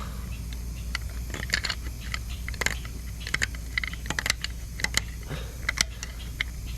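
Sharp, irregular scraping and clicking bursts, close up, a hard tool rasping hard carbon off GDI intake valves over a steady low hum.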